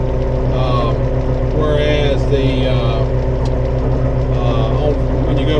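A compact tractor with a CVT transmission, its engine lugging down under heavy load, gives a steady loud low drone with strong harmonics and a faint higher whine, while someone talks over it.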